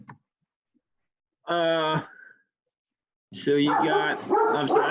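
A dog barks indoors during a lecture, one clear bark and then a rough burst of barking, close and loud, with a person speaking briefly between them.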